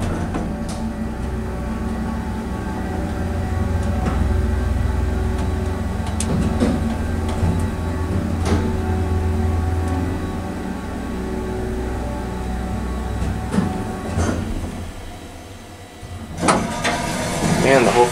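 An Atlas hydraulic elevator motor starts up and runs with a deep, steady rumbling hum, and a voice talks over it near the end.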